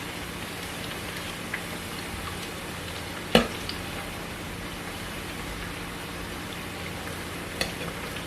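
Plantain frying in a pan, a continuous even sizzle like light rain, with one sharp knock of a utensil against the pan partway through and a couple of fainter taps, no talking.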